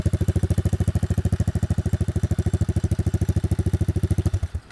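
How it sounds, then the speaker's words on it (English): A Teo Motor 125cc utility quad with a uni air filter runs close by, its engine giving a loud, steady, rapid chugging pulse that cuts off abruptly at the end. "Teo motor, 125cc. Utility quad."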